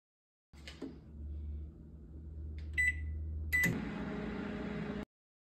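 A microwave oven heats a bowl of spaghetti mixed with sauce and two Vienna sausages, giving a steady low hum with a few brief beeps partway through and a louder whir after the door or controls click.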